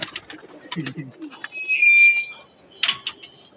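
A young pigeon and other pigeons in a loft coo in short low bursts, close by, with brief chirps and a passing high tone mid-clip.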